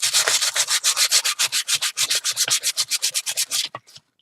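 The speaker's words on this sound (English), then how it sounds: "it needs to be sanded down, and I like to do it with quite a heavy grit first, going down to a finer grit" Steady back-and-forth scraping of coarse-grit sandpaper on a pine wand, about thirty quick rhythmic strokes, loud and close, slowing to a stop near the end.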